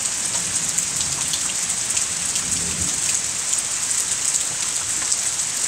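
Heavy rain falls on a cold, nasty day, a dense, steady hiss of drops on surfaces with a faint low rumble underneath, unbroken and even throughout.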